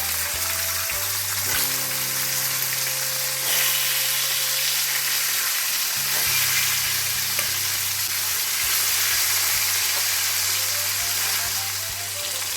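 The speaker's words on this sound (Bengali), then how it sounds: "এই মাছ ভাজা তেলের মধ্যে আমি একটু কালো জিরে ফোড়ন দিচ্ছি। দিচ্ছি আমি 2টো কাঁচা লঙ্কা, চেরা কাঁচা লঙ্কা। এবার মাছগুলো দিয়ে দিচ্ছি।" Fish sizzling loudly in hot oil with nigella seeds and slit green chillies, a continuous close crackling fry with faint scraping and low hum underneath.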